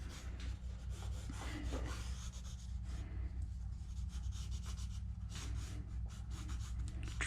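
Graphite pencil scratching and rubbing across paper in loose, fast gesture-drawing strokes, a close, quiet, continuous rasp with quick repeated sweeps.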